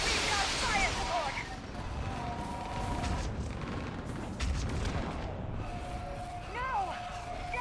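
Artillery fire support pounds away during a Mass Effect 3 battle: loud, dense booms and crashing blasts roll on continuously, with voices and other combat noise mixed in.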